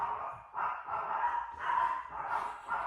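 A tiny 7-pound dog barks repeatedly, a series of sharp, high yappy barks with short gaps, fairly faint and heard alone.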